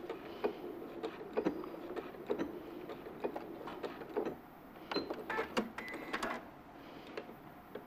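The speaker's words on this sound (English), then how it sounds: "I'm just going to finish that with a lock stitch." A domestic sewing machine stitching quilt fabric, finishing with a lock stitch: rapid, irregular mechanical clicking and whirring bursts in quick succession, close and fairly quiet, with no talk.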